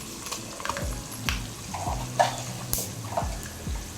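Dried red chillies, cut into pieces, hitting hot oil in a pan for mango pulihora, giving a steady close sizzle with bursts of crackle and a few stirring knocks.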